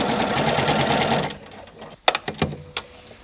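An automatic sewing machine stitches a buttonhole on test fabric, first a steady whirring run, then a pause and a few short bursts of stitching close by.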